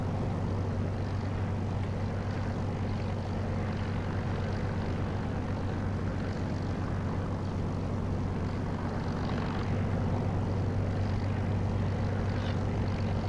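A Spitfire's piston engine idles on the ground in the DCS flight simulator, a loud, steady low rumble with a deep throbbing drone that holds constant throughout, with no voices.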